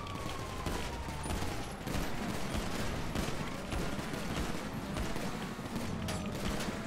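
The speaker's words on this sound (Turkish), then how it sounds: "Polis sıkıyor." Police gunfire during a video game roleplay, heard as dense overlapping shots and rattling bursts that continue steadily throughout, loud and busy with mechanical clatter, with no talk.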